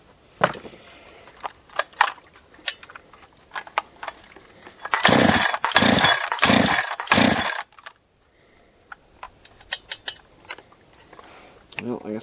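Holzfforma G372 chainsaw during carburetor adjustment, a few short revving bursts of the two-stroke engine amid clattering and handling noises, close and fairly loud.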